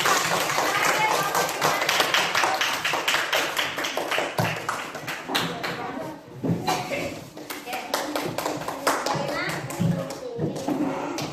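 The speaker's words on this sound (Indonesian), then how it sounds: "Beri dulu tepuk tangan untuk kelompok 4." A classroom of children claps for a group, with dense, fast hand claps and children's voices over a teacher's talk, lasting several seconds before tapering off.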